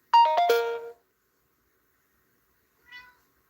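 A pet cat at home gives a loud, close meow made of a few quick stacked cries, then falls silent before a softer, shorter meow follows a couple of seconds later.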